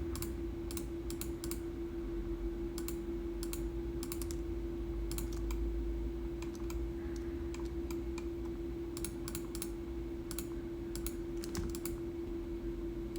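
Steady computer keyboard typing and mouse clicking while working in 3ds Max, with clusters of close, crisp key taps over a constant background hum.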